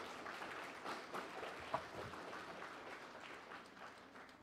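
A church audience applauds a group of children, a soft, steady patter of many hands heard from a distance for several seconds.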